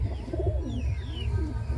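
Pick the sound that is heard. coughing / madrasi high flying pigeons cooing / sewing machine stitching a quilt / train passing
madrasi high flying pigeons cooing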